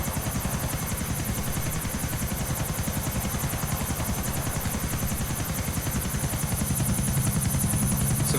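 A helicopter flies over a pond with a steady, loud rotor chop that beats in a fast, even rhythm under a constant engine whine, holding close and unbroken throughout.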